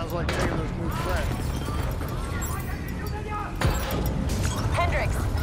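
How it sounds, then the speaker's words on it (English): Rumbling video game explosions across a facility in Call of Duty: Black Ops 3, with crackling debris over a constant low roar and voices speaking over the chaotic action. "we have multiple explosions across the facility"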